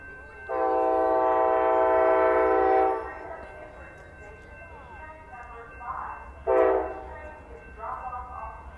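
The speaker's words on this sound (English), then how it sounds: "here comes the Amtrak California Zephyr, train number 5" An Amtrak California Zephyr passenger train, led by a Genesis locomotive, arrives at Martinez station: its horn blasts loudly for a few seconds, then sounds again briefly, over a rumbling train with some background voices.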